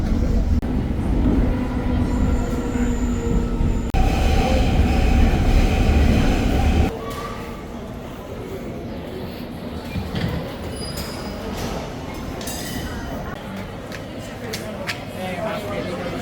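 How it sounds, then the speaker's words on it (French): A Rome metro train running, a loud steady rumble of wheels and motor with squealing and clattering that drops to a quieter interior hum partway through, with voices talking over it. "comment tu trouves le métro romain?"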